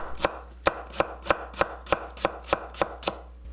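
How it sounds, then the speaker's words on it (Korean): A knife julienning onion and carrot chops steadily on a cutting board, about ten crisp, evenly spaced strokes in quick rhythm, close and clear with no talking. "양파 반개와 당근 3분의 1개를 채 썰어주세요."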